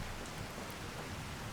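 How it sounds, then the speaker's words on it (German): Steady rain hisses down in the video game Skyrim, a dense, even wash of noise with no speech over it. "Dann stapfen wir doch mal eine Runde durch den Regen."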